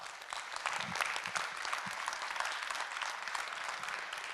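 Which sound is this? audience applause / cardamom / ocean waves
audience applause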